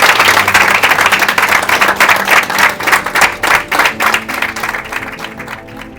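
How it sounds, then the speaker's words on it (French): Crowd in a football team's dressing room clapping for a player after a Coupe de France match against PSG, dense loud applause that turns into slower rhythmic claps and fades toward the end. "j'ai envie tout le monde à se lever et l'applaudir pour ce qu'il a"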